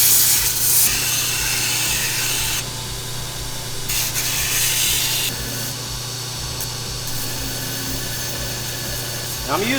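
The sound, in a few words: belt grinder with worn 80 grit ceramic belt grinding steel bottle opener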